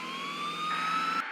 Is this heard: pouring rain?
no